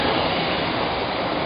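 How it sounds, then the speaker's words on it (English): A steady, continuous rumble of a train rolling past, broad and even throughout with no voices over it. "You can hear a train going by at the moment."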